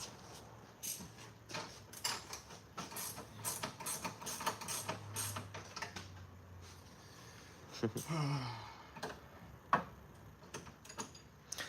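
Bolts being loosened with a ratchet during a Sprinter camper van power system setup, giving rapid ticking clicks in irregular bursts with metallic clanks, close and fairly quiet, while people talk nearby.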